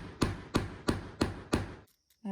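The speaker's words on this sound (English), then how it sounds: "That's called a hammer." Five sharp hammer taps in a steady rhythm, close and fairly loud, followed by a short quiet gap and then a brief bit of voice.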